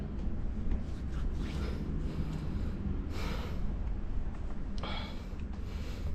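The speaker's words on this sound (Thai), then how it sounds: "หอบแห้งๆเลยอะ" A hiker worn out on a long trek pants heavily and hoarsely, with rough, loud breaths close to the microphone over constant wind or rumble.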